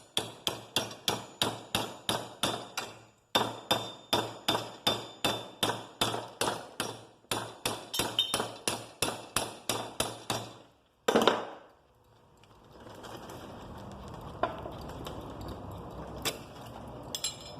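Hammer repeatedly tapping a homemade metal swivel, a steady run of sharp, close, evenly spaced strikes with brief pauses, then a louder clatter and quieter handling noise at the end.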